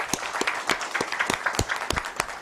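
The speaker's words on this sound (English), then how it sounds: "don't we think it's a time to do a round of applause for all the people present here?" An audience at an innovation-themed panel event gives a round of applause: steady, moderately loud clapping with sharp individual claps standing out, lasting a few seconds.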